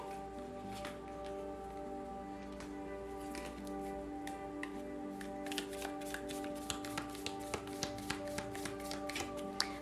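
Tarot cards are shuffled and drawn during a reading: soft rustling and sliding at first, then a run of crisp, evenly spaced taps and snaps as cards are laid down, over a faint steady tonal hum.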